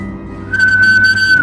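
A single steady, high whistled note from a person, held for about a second over a low background hum, close and clear.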